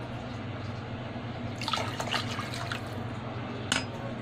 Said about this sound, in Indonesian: Selanjutnya tambahkan susu UHT